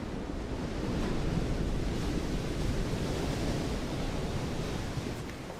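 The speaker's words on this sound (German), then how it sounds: "Wenn ich am Meer bin, könnte ich stundenlang dem Rauschen der Wellen zuhören." Ocean waves break and wash continuously in a broad, steady roar, with wind rushing across the microphone throughout.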